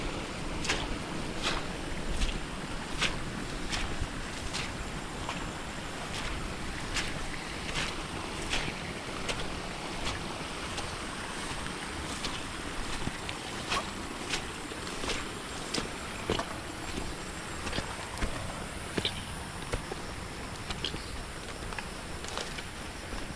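Strong water rushes continuously in an outdoor river setting, a steady, fairly close roar with gusty wind buffeting the microphone and occasional faint knocks, with no talk over it.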